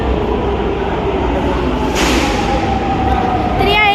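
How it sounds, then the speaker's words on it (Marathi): A Pune metro train pulls into a station: a steady rolling rumble swells, a sharp hiss bursts midway, and a thin rising squeal emerges near the end, with voices of people on the platform mixed in. "आता आलेली आहे आपली मेट्रो."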